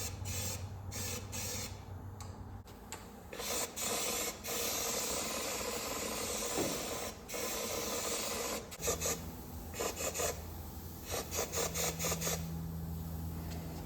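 A spray gun hisses steadily while painting a car part test piece, with a continuous airy rush broken by short pauses and bursts near the end.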